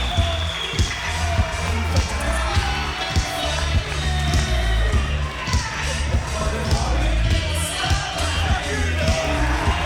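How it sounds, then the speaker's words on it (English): Crowd roar fills an arena at a wrestling event in West Branch from the Super Shogun Wrestling video game, a steady dense wash with thumping impacts and a commentator talking over it throughout. "you hear the roar of the crowd here in West Branch"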